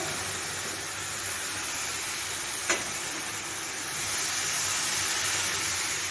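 Water poured into a hot pan right after frying eggs in a home kitchen gives a steady, close, broadband steam hiss that holds for several seconds, with one brief click partway through and no talking.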